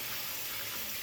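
Warm tap water runs steadily from a faucet into a sink as hands are rinsed during a barber's shave routine, a continuous close hiss with no talking.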